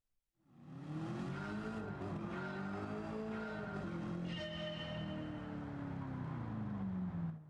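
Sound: 1967 Chevy Nova race car driving a lap

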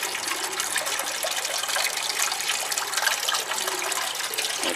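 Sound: air stone bubbling in hydroponics nutrient tank

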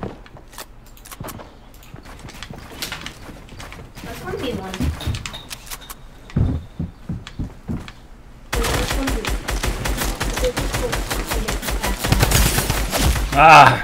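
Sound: drum gun firing in Fortnite video game

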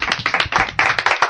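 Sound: applause, people clapping

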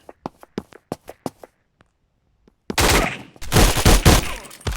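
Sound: gunfire in the video game Polywar

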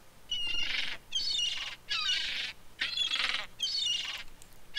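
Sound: bird squawking in a video game

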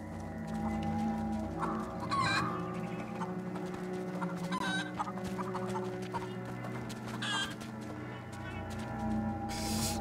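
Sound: chickens clucking in video game

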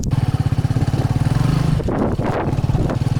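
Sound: motor vehicle engine driving off

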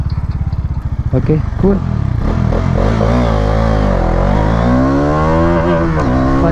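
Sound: Bajaj Dominar 400 motorcycle accelerating 0 to 100

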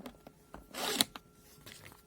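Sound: guillotine cutter cutting a sealed vacuum bag

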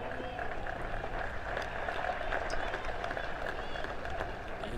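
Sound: applause from the Valley cheer squad at a cricket match

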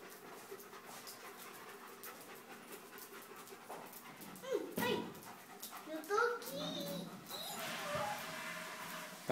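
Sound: dog panting

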